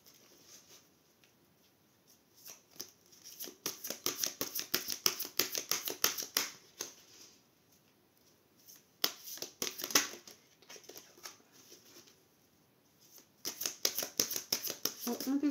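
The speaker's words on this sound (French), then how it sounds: "Bon, un peu plus dur à mélanger parce qu'elles sont grandes, elles sont énormes ces cartes" Large oversized tarot cards shuffled by hand, bursts of crisp riffling and slapping card noise in irregular clusters with quiet gaps between, close and fairly soft.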